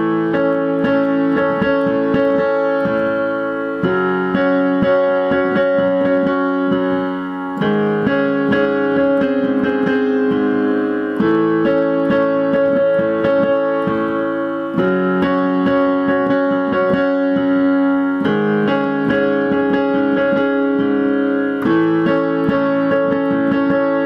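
Solo piano plays the song slowly with both hands, a continuous flowing pattern of arpeggiated chords with rhythmic accents, clear and close with no voices.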